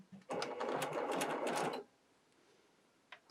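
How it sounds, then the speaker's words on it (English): A sewing machine stitching patchwork curves runs in one close, steady burst of rapid mechanical whirring and needle clatter, then stops, leaving a quiet room. "I'm going to sew it in exactly the same way though."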